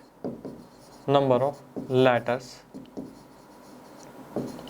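Handwriting of numbers and letters on a maths worksheet, with soft, close scratching strokes under and between a man's teaching speech.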